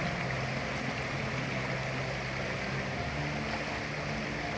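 Suzuki Jimny driving off through water, a constant broad wash of splashing and engine rumble heard from a distance, steady with no pauses and no talk.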